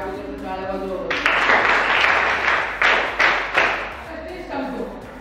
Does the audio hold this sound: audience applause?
yes